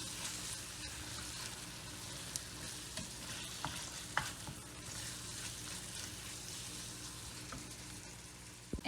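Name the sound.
spices frying and stirring in pan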